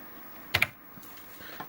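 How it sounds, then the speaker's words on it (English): Two quick key presses on an Apple II computer keyboard, close and crisp, followed by a few fainter clicks in a quiet room. "If you press, for example, L on the keyboard, it keeps moving to the right."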